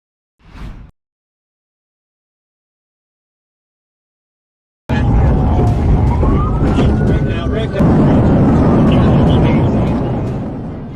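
A brief sound, then silence, then a police siren wails loudly and close, rising and falling alongside a revving engine and road noise.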